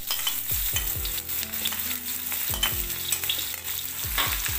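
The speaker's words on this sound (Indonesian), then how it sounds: "Kita tumis sebentar." Sliced shallots, garlic and ginger sizzle steadily as they sauté in hot oil, with repeated scraping stirs of a utensil against the pan, close and loud, with no voices.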